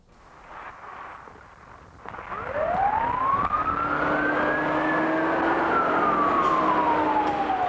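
A big red fire engine's siren rises in a long sweeping wail, then slowly falls, loud and close, over traffic noise.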